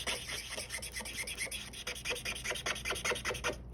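A marker scratches rapidly back and forth across paper, a quiet, rhythmic series of dry rubbing strokes heard up close.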